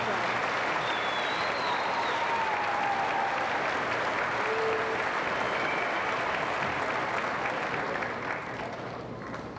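A graduation audience in a large hall applauds award honorees with a dense, sustained roar of clapping that holds steady for several seconds before starting to thin out at the end.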